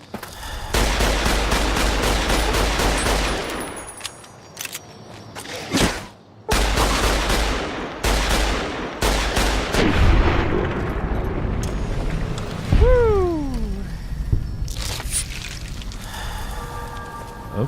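Gunfire from a gun in Fallout: New Vegas, with loud, dense bursts of shots broken by brief silences. A descending whistling tone and scattered impacts come near the end.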